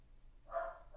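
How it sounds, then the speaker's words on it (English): A single short dog bark or yip sounds faintly from nearby in a quiet room, brief and alone, with no talk over it. "sorry, that's my dog."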